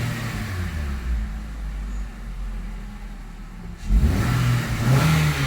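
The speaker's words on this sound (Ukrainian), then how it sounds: "Двигун працює рівно." A Nissan Rogue engine runs steadily at a low, even idle, then rises slightly in pitch and loudness near the end.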